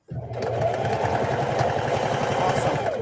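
A sewing machine stitches an infinity scarf, a close, fast, steady mechanical whir running without a break for about three seconds.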